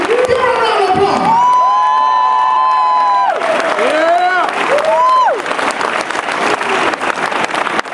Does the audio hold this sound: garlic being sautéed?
no